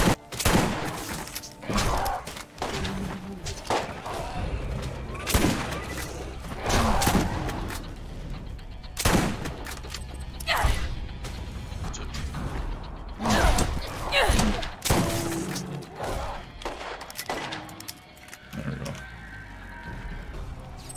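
Repeated shotgun and revolver blasts from the Borderlands game ring out in irregular bursts over roughly twenty seconds, loud thumping shots mixed with mechanical clanks and creaks, with occasional voices talking between them.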